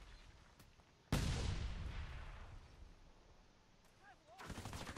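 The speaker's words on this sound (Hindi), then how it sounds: "ग्रेनेड फेंक के देख लेते हैं कुछ हो जाए तो।" A grenade explodes in the war video game Frontlines: Fuel of War, one loud near blast with a long rumbling decay, followed later by further bursts of gunfire.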